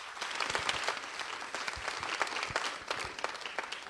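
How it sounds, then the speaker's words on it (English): Audience applauding the National Theatre of Ghana dance company after its opening performance at a pageant's tourism night, dense steady clapping from a large crowd throughout. "Shall we give them a solemn applause"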